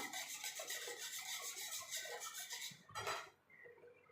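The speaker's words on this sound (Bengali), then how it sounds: "ভালো করে মিশিয়ে নিতে হবে" Milk powder mixture rubbed and mixed by hand in a bowl for gulab jamun, a steady close scratchy rasping that runs continuously, then a brief louder scrape near the end before it quiets.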